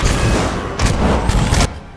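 Loud booming fireball spell blasts in the video game Pillars of Eternity burst out in quick succession over a dense rumbling background, several sharp explosive hits within a couple of seconds.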